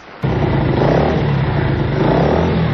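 A motorcycle engine idles indoors inside a radio station, a dense, loud, steady rumbling clatter that starts abruptly and holds evenly throughout.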